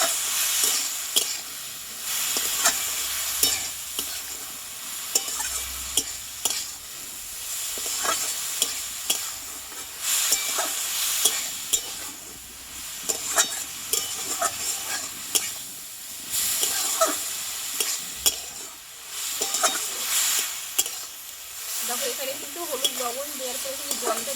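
Betho greens frying in a pan with salt and turmeric, stirred continuously, giving a steady loud sizzle and hiss broken by scraping stirs, with a little talk in the background.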